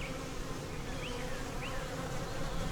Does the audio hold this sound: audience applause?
no